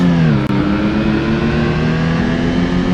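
A steady, droning car engine hums at high revs throughout in the video game BeamNG.drive, loud and close, with a brief dropout near the start.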